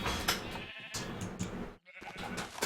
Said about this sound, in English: I think I even see a light gray baby sheep there now.